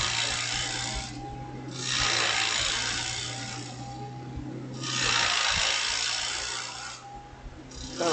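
A gouge cuts wood spinning on a lathe, producing long hissing scraping passes that swell and fade in two main strokes over a steady low motor hum, close and continuous with no talk.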